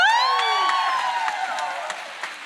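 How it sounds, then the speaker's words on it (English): An audience at a county supervisor's Title IX panel discussion lets out a loud, drawn-out whoop that rises and falls, with scattered cheering and faint clapping behind it. "you need to give me your best applause for Supervisor Cindy Chavez"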